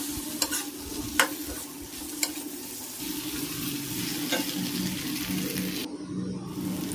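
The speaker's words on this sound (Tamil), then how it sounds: "அந்த பரோட்டா பீசஸ்லாம் மேலே வச்சுட்டு அந்த மசாலாவோடு அதை பரோட்டாவை மிக்ஸ் பண்ணேன்" Torn parotta pieces being tossed with fried masala in a hot pan for homemade kothu parotta: a steady sizzle with a few sharp scraping clicks of the spatula early on, close and continuous, no talking.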